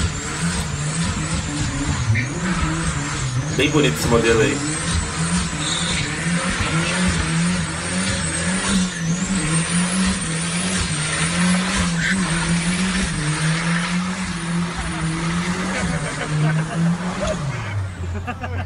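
A carbureted Chevrolet Chevette drives along a street and revs with a steady droning engine note, briefly stumbling and misfiring before rising again, heard fairly close while people talk over it.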